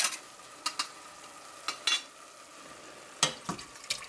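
A spoon stirring diced tomatoes into a pot of turkey soup, quiet cooking noise broken by a series of short, sharp scraping and clinking bursts at irregular intervals, with no voices.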